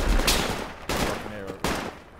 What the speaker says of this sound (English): Can you hear the fucking shooting and shit?